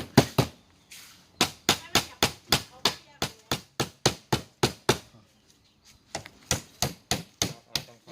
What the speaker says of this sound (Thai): ตอกไม้อยู่ครับกำลังตอกไม้